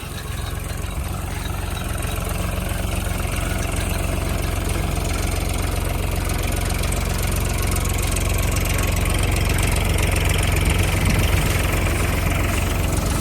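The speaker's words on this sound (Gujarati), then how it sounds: "ટ્રેક્ટર ચાલુ કરી દીધું છે" A heavy diesel tractor engine, a Farmtrac 42 Pro Max, runs steadily with a low, chugging rumble and rattling vibration, loud and close, unchanging throughout.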